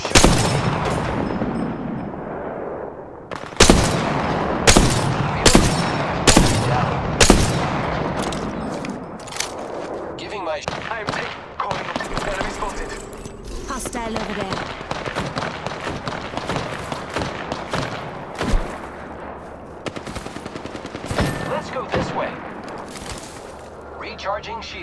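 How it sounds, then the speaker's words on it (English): Enemy gunfire in the video game Apex Legends: a volley of loud shots early on, then denser, scattered firing and impacts throughout, with in-game voice lines over the fighting. "The enemies are shooting."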